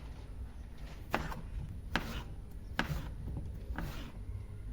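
A knife slicing cucumber and carrot on a board, four distinct chops at an even, unhurried pace over a low steady background hum.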